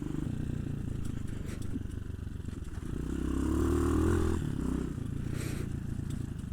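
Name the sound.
Hawk 250 motorcycle tipping over and falling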